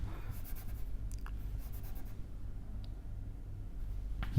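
Pen or marker writing during a physics lecture on band theory of solids, a faint continuous scratching with a few light taps over steady room noise.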